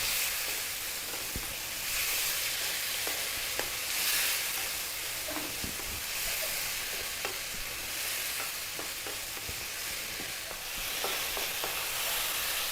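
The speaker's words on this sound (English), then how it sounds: "we're going to go for about 5 minutes on this high heat, stirring often" Chicken pieces fry on high heat in a pan for braised chicken with scallions and chili, giving a continuous bright sizzle and hiss with frequent clinks and scrapes of stirring throughout, close and even.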